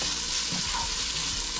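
Eggplant tipped into a hot frying pan with pork, giving a loud, continuous hiss and sizzle with stirring scrapes, close up and alone.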